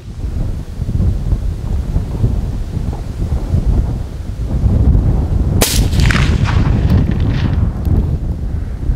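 A rifle shot fired at steel gongs on a 400-metre range rings out once as a sharp, loud crack midway through, over steady outdoor wind rumble, with no talking.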